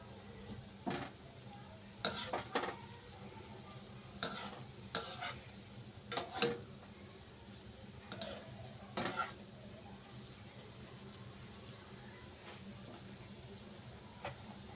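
Gulab jamun dough balls fry in oil, a quiet steady sizzle broken by several sharp clinks and scrapes of a utensil against the pan, with no voices.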